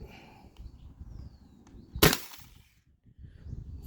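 A modded T4E HDB paintball marker running on a 20 oz CO2 tank fires a single sharp, loud shot outdoors, standing out against steady wind noise.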